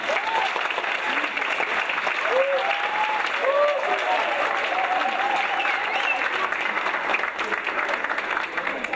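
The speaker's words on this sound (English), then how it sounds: "could you give them a big round of applause out here?" Crowd applause at an alumni achievement award event, honoring swim team and booster volunteers, a steady clapping wash with voices and cheers mixed in, fairly distant and even throughout.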